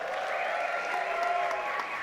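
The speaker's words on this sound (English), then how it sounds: "So give yourselves a round of applause" An audience at the 2025 Queerties awards ceremony breaks into applause, a brief burst of clapping layered with whoops and tonal cheering or background music.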